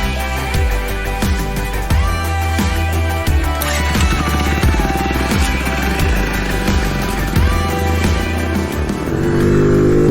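A 50cc petrol motorcycle with a 5-speed gearbox rides on the road, its small engine revving up and dropping repeatedly as it shifts through the gears, loud and close, with no talk.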